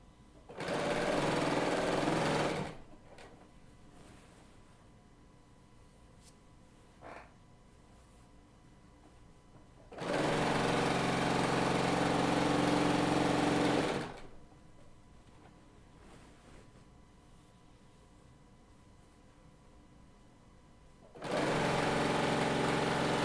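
Bernina L890 serger running a 4-thread overlock stitch on a binding, heard as three separate bursts of fast, steady mechanical whirring with quiet pauses between them.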